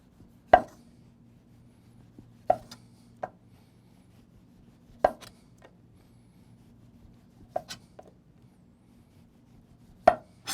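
A knife chops through mangoes on a cutting board while preparing Hawaiian fruit salad: sparse, crisp thuds spaced a second or two apart, close and isolated in a quiet room.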